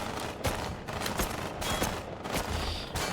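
Repeated gunshots fire at a steady, fairly quick pace in Hunt Down the Freeman, each crack sharp and broadband against a constant game background, with no talking.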